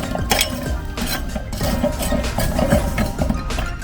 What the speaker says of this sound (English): Let's put the grate on.